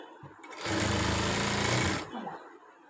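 A sewing machine stitches fabric along a marked line in one steady, close whirring run of about a second and a half, starting and stopping cleanly.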